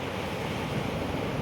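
Calm sea waves from a fairly gentle ocean, a steady broad wash of surf and wind noise filling a brief moment without any talking.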